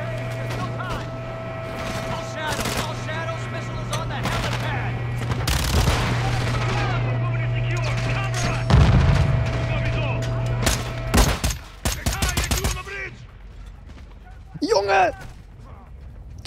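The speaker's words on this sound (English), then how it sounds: "Schmeiß doch nicht so viele Granaten!" Heavy gunfire and grenade blasts in Call of Duty: Modern Warfare II. Sustained loud automatic fire comes with sharp bursts and explosions, and people talk over the action before it thins out into scattered shots.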